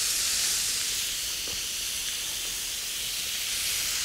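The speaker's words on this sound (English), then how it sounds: "It needs to sizzle when you put it on there." Filet mignon steaks sizzling on a hot grill, a steady, bright hiss that runs evenly through the whole stretch, with no voices over it.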